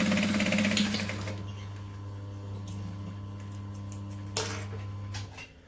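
Sewing machine stitching a seam into the corner of a fabric clutch: a fast buzzing run of stitches stops after about a second, followed by a steady electrical hum, light handling clicks and a brief clunk as the fabric pivots.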